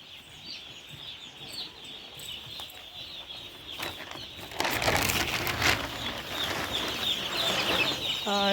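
A crowd of chicks peeps and cheeps continuously in a high chorus, growing busier midway, with a brief louder chirping call near the end.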